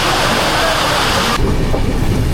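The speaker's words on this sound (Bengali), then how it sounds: "আমি চাইলাম যে তোমাদেরকে বৃষ্টিটা একবার দেখাই" Loud, dense rainfall roars steadily at a railway junction station, a continuous wash of noise, close and heavy throughout.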